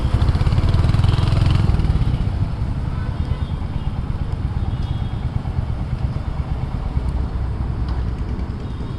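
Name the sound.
Royal Enfield Hunter 350 motorcycle being ridden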